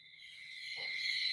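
Night-mode sound machine held up close, playing insect-like cricket chirps tuned to 432 Hz: a steady high, even trill runs through the whole stretch, faintly, with a soft low hum beneath and no talk.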